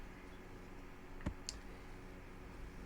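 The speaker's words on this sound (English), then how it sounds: "I'm just going to click on save project" A single sharp mouse click saves a project, quiet and close against a steady low hum, with a fainter tick just after and no talking.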